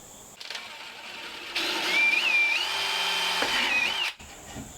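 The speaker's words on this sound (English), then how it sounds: "What I'm going to do is I'm just going to drill a small hole." A power drill bores a small hole during a homestead repair, a steady whirring run of about two and a half seconds with a pitch that rises and dips, preceded and followed by quieter handling noise.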